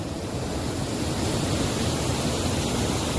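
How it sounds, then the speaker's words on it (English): Small stream at Hiranyakeshi, Amboli flowing in a steady, dense rush of water, close and continuous with no voices. "There's a small stream flowing here."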